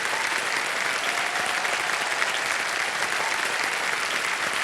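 Studio audience applauding on a televised quiz game show, steady dense clapping filling the whole stretch at even loudness with no break.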